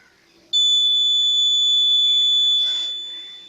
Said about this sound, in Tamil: இது ஒரு பீப்.